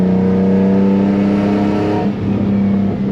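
A built-motor turbocharged Nissan 350Z engine revs hard under acceleration, a loud, steady rising drone with strong harmonic tone that breaks briefly near the end, heard close from inside the car.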